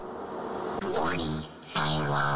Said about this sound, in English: put a lot of reverb and reverse them and put them before the sample